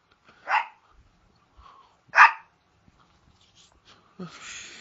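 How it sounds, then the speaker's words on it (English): A dog gives two sharp barks about a second and a half apart, close and loud in a quiet room, followed by a softer breathy noise. "My dog was barking, y'all."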